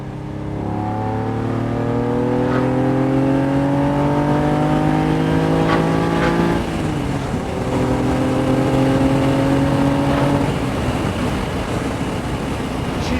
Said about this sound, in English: We can downshift to third and see what sort of giddy up and go she's got.